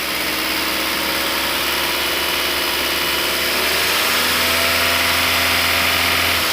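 A Hyundai Verna 1.6 engine runs loud and close in a steady drone, its pitch climbing slightly partway through as it is revved.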